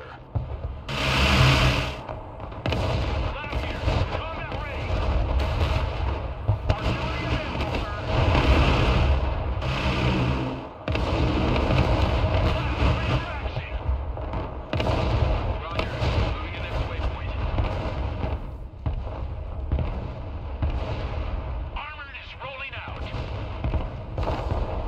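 Battlefield combat in the game Broken Arrow, with booming artillery and gunfire thudding near and far under a constant rumbling din. Radio-style voices talk over the fighting at times.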